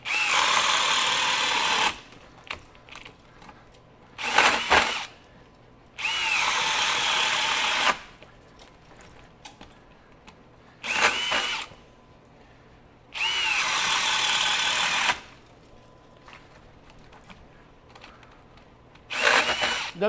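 A Bosch GSB18V-1330C 18V high-torque hammer drill bores with a 1.5-inch self-feed auger bit, running in several loud two-second bursts separated by short pauses and brief blips, close up with no talking.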